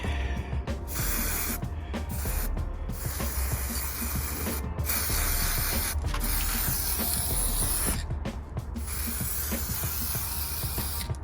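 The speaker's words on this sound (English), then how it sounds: "Then I'll probably hit it with another spray, like a lighter spray." An aerosol can sprays dark gray primer onto a 3D-printed Moon Knight mask, a steady close hiss broken by a few brief pauses between passes.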